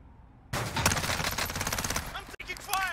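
Rapid automatic gunfire erupts in a battle royale video game, a dense, loud sustained burst of shots that runs for about two seconds, breaks off briefly, then resumes.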